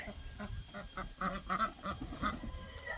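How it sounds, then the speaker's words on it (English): Several ducks in a large coop give repeated short quacks in an uneven rhythm, close by and fairly loud, with faint rustling in the background. "these ducks are here telling me what their opinion"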